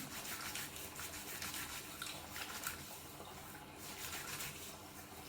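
Water runs steadily from a tap, a quiet, continuous splashing hiss.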